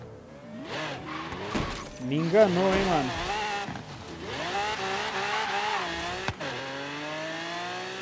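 In Forza Horizon 3, a car's engine revs and accelerates with rising and falling harmonic whines, a brief skid and a sharp knock, while someone talks over it.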